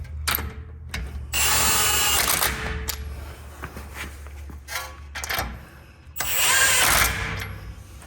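A power tool spins a 21mm socket to tighten nuts on a high-steer iron knuckle and heavy-duty tie rod installation, with two loud sustained bursts of ratcheting drive separated by quieter handling noise.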